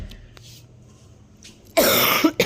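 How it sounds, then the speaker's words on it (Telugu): A woman coughs in a home kitchen while cooking a ridge gourd curry, a short loud burst near the end after quiet room tone, followed by a second brief cough. "మధ్యలో కొంచెం దగ్గు కూడా వచ్చేసిందండి."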